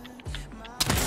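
A single sharp gunshot-like crack in Fortnite Battle Royale bursts out near the end, loud and close, after a stretch of low murmuring background with faint voices.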